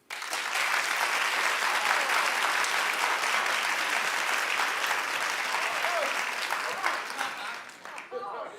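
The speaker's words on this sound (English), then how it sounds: "Clap if she has not clicked with you." Studio audience at a daytime talk show breaks into loud, sustained applause that fills nearly the whole stretch, a dense wash of clapping with some crowd noise, tapering briefly near the end.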